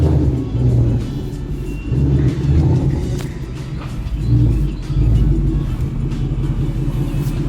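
A car engine rumbles steadily at close range with low-end drone, swelling and easing slightly as the vehicle maneuvers slowly.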